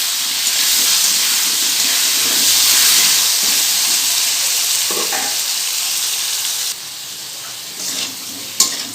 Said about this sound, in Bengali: এবার আলুগুলোকে ভালো করে ভেজে নেবো